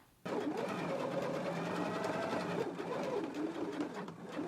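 A home sewing machine runs a straight stitch along the neck seam of a knit dress bodice, giving a steady, continuous whirring hum that starts abruptly and carries on close and unbroken.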